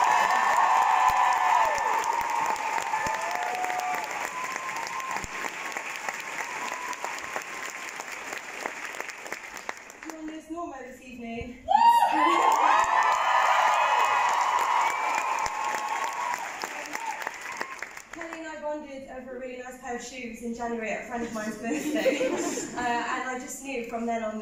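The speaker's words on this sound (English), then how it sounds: "she deserves a massive round of applause" Applause and scattered cheering from a theatre audience, loud and sustained with a sharp swell partway through, as a voice speaks over the ovation for Laura Baldwin's last night playing Dawn.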